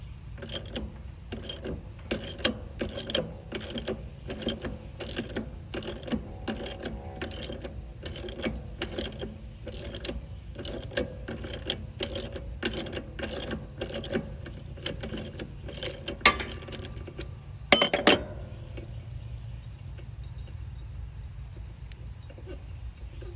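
Ratcheting clicks from a wrench loosening a small bolt and nut on the idler pulley arm of a Gravely Pro Turn 48-inch hydrostatic mower, a steady rapid series of close metallic clicks with a short clatter near the end.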